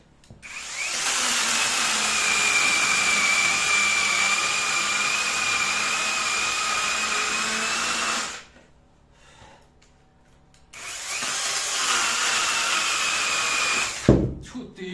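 An electric saw cuts firewood logs on a cold winter day, a loud continuous high whine grinding through wood for about eight seconds, stopping, then starting again for another stretch before cutting off.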